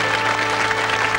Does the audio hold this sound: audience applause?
yes